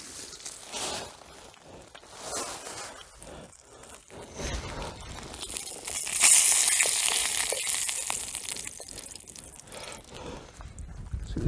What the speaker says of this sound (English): That's actually sizzling nicely in there.